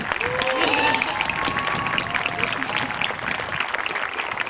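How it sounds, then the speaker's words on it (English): An audience applauds at the Rye Neck High School Class of 2023 graduation ceremony: sustained crowd clapping with some cheering, loud and fairly close, holding steady for several seconds. "please give a round of applause to Miss Fulchetti and Ms. Milo"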